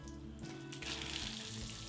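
A watering lance sprays a gentle rain-like shower over a freshly planted hanging basket, a steady soft hiss and patter of water going on throughout, close and fairly quiet.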